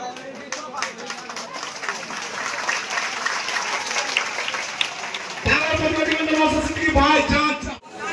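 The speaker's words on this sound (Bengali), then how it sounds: "আমরা সবাই একবার জোরে করতালি দিয়ে ভাইজানকে বরণ করে নেব।" A rally crowd claps loudly to welcome the leader Bhaijan, with a scattered patter swelling into dense, sustained applause that carries a murmur of crowd voices underneath.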